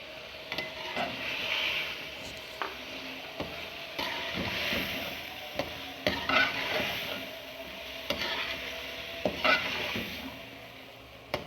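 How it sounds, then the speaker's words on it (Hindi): Biryani masala frying and being stirred in a pan, steady sizzle with repeated scraping strokes of a spoon every second or so, close and clear with no talk. "इसको अब अच्छी तरह भूनेंगे। और इसके साथ ही ये सारे मसाले डालेंगे।"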